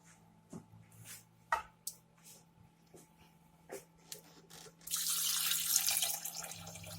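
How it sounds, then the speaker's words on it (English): Water pours steadily into a pan of Nellore-style fish curry (chepala pulusu) on the stove, a loud rushing splash arriving after a few scattered clinks and taps of utensils. "Once this is done, I'm going to add some water."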